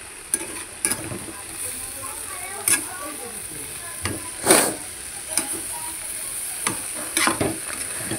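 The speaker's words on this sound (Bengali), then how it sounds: "সেই উচ্ছে বেগুনটাও এর ভিতরে দিয়ে দিলাম, দিয়ে ভালো করে মিশিয়ে নেব" Fried bitter gourd and eggplant stirred into vegetables in a sizzling pan, a steady frying hiss with repeated scraping clinks of the spatula against the pan at an uneven pace.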